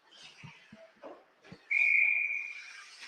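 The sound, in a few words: referee's whistle at an ice hockey game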